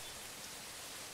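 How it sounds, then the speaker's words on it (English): Steady rain falling outside in a horror video game where a zombie deer hunts the player, a soft, even hiss with no breaks, fairly quiet and constant. "All right, all the lights are off. It's raining outside."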